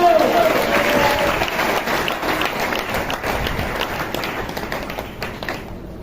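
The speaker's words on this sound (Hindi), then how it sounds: "जोर से प्रभु का धन्यवाद करो, ताली बजा के धन्यवाद करो।" A church congregation claps loudly in thanksgiving to God during a Hindi sermon, dense sustained applause filling the whole stretch and slowly thinning toward the end.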